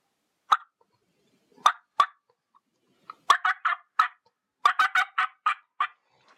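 A diaphragm turkey call blown by mouth, imitating turkey yelps and clucks: a few single sharp notes, then quick runs of several yelps, close and clear with no talk.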